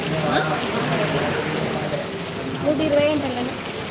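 Heavy rain falling in Bethamcherla on a street where umbrellas and raincoats are sold, a dense continuous wash of drops with faint background noise, steady throughout.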